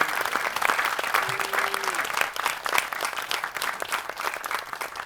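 Audience applause at a jazz quartet concert, dense and sustained clapping from a room full of listeners, loud and continuous throughout with a brief sustained instrument tone underneath.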